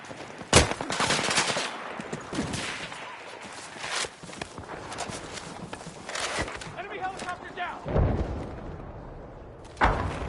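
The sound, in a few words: enemy machine gun firing in Battlefield video game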